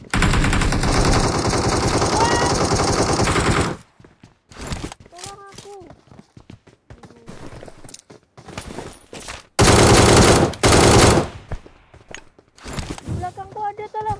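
Gunfire in the PUBG Mobile battle royale game: loud bursts of automatic fire and scattered single shots, with quieter gaps between volleys, while players talk over the action.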